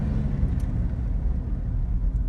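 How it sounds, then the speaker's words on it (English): A Chevrolet Trailblazer with a 3.6L V6 engine at full throttle, a heavy, continuous low rumble with a dense drone, close and loud with no talk over it. "first of all, full throttle, noise, and then it goes."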